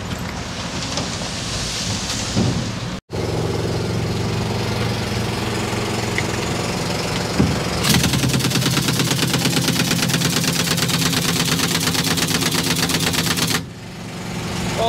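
A pneumatic impact gun tightens bolts on a Caterpillar D6 bulldozer in loud, rapid hammering bursts, with a brief pause, then a sustained rattling run before cutting out, all up close and without talk.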